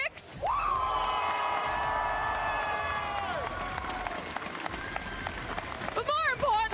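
A packed esports watch party crowd for a VCT Americas Valorant playoff roars continuously, loud sustained cheering with whoops and shouts and scattered clapping filling the whole stretch.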